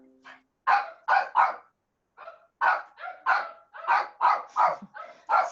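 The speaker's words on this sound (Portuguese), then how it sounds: "Peraí, gente, que aqui em casa tem cachorro." A dog barks indoors at home in a series of loud, close barks, first three in quick succession, then after a short pause a longer run of about eight barks in a steady rhythm, with no talk over them.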